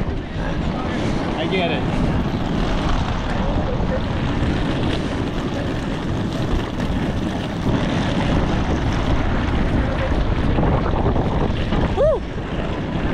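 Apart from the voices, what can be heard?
strong cold wind at Oakland airport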